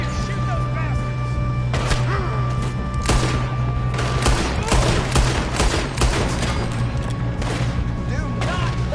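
Rapid gunfire in the Red Dead Redemption 2 video game, sustained volleys of shots and thuds over steady background noise, with voices shouting over the shooting.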